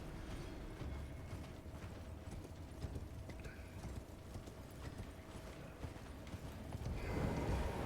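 Horse hooves clip-clop in a steady rhythm at a quiet level in a video game, the horse Torrent from Elden Ring, with faint mechanical clicks underneath and a louder rush near the end.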